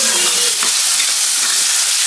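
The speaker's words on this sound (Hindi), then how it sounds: "यहाँ पे ये तड़का बस ऑलमोस्ट होने लगा।" Loud, steady sizzling of tempering spices frying in hot oil in a pan, close up, with faint stirring scrapes.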